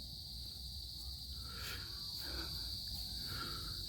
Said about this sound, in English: You can hear the crickets cricketing away.